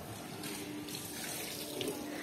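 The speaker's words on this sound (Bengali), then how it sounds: "অলরেডি যে ইভান জল শুরু করে দিয়েছে স্নান" Water running from a tap to fill a bath, a faint steady hissing splash that continues without a break.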